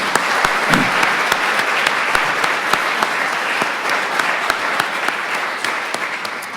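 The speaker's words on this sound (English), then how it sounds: "Let's give that a round of applause." A hall full of guests at a university business school ceremony breaks into a sustained round of applause, close and full, holding steady before tapering slightly at the end.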